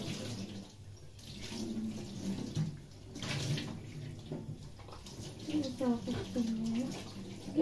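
Tap water runs steadily while clothes or items are washed by hand in a sink or basin, a close continuous splashing with shifting flow, with a voice talking over parts of it.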